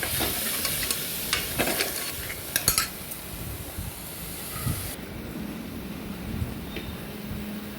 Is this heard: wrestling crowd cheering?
no